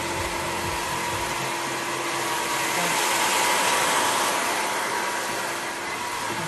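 Hair dryer blowing steadily during a long layered haircut, a constant broadband whoosh at moderate level that holds without pause.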